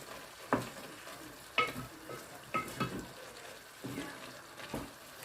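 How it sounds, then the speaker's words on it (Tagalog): Shrimp paste being stirred into laing in a pan, a spoon scraping and pushing through the thick simmering mix in several separate strokes, moderately faint with a low sizzle underneath. "Ayan, haluin natin. Para even ang pagka-distribute ng shrimp paste."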